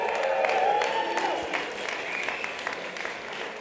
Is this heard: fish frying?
no